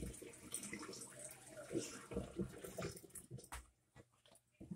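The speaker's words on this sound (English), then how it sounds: "So we're just going to pour it down the primary sink." Rid-X septic treatment poured down a household sink drain, a close splashy liquid pour with gurgling for about three seconds, then quieter clinks and trickles.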